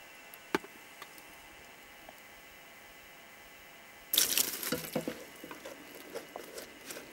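Tap water runs into a container to dissolve soap-making ingredients, starting abruptly partway through as a close splashing rush with patters and clinks, after a quiet stretch with a single faint tick.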